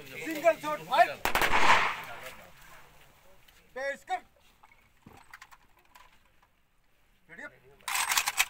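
Gunfire salute at a soldier's funeral in Siwan, India: sharp rifle shots ring out in separate bursts, with a final volley near the end, amid loud commands and voices from the crowd.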